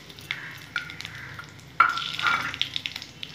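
Cumin seeds, bay leaves, cardamom, cinnamon and cloves frying in hot oil for a curry, a close crackling sizzle with scraping stir strokes that grow louder partway through.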